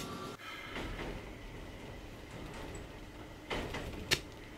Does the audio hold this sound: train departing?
yes